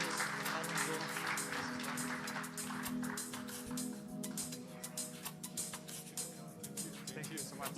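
A conference audience at a crypto award ceremony claps and cheers steadily for several seconds, a dense wash of applause heard at a distance with voices mixed through it.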